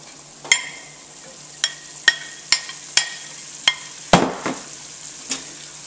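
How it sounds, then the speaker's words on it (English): Onions and asparagus fry in a pan with a soft, steady sizzle, punctuated by about ten sharp clacks and scrapes of a utensil stirring against the pan at irregular intervals. "We're going to stir this in nicely. And every few minutes we're going to have to stir it."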